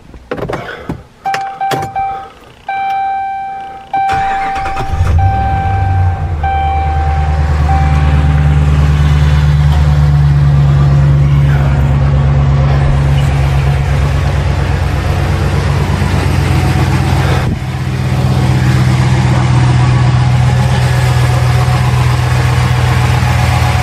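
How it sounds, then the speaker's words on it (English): A Ram 1500 pickup truck's engine cranks around the five-second mark, catches, and settles into a loud, steady idle that runs alone to the end. Some light clicks and whirs come before the start. "I'll start the truck up and see if it leaks anymore"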